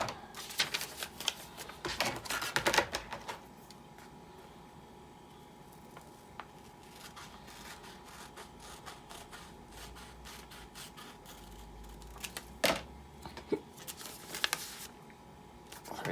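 Scissors snip and rustle through paper in short bursts of crisp cutting, fairly close, against a low background hiss.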